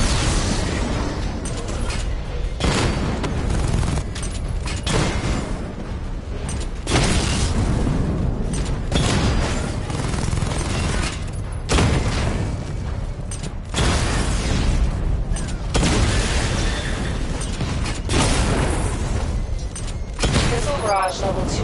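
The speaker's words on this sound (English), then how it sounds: "Charge up missile barrage to level 2 and destroy 4 active targets to complete diagnostic test." Missile barrage explosions from Batman Arkham Knight keep booming and bursting almost without pause, loud and dense throughout, with a voice speaking over the blasts.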